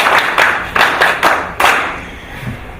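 Audience applause at a police regional commander's farewell party, several bursts of clapping rising and fading in quick succession, fairly close and loud, with no talk over it.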